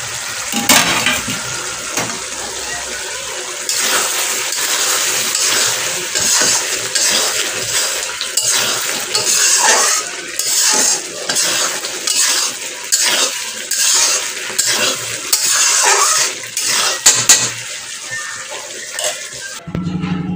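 Cooking in a home kitchen: utensils stirring and scraping in pots and pans with clinks of cutlery and running water, busy and continuous, close and fairly loud.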